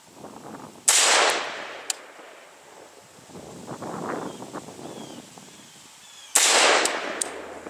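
Two sharp rifle shots at a target 25 meters downrange, at about one second and again near six seconds, each with a loud crack and rolling echo, while wind rumbles in the microphone throughout.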